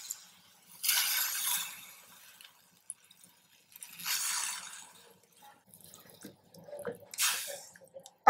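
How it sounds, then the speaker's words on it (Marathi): Water is poured into a pressure cooker pot of taro leaves in three separate splashing bursts with quiet pauses between, along with soft clinks and handling noises. "आता आपण अळू शिजण्यासाठी ह्याच्यामध्ये पाणी घालणार आहोत।"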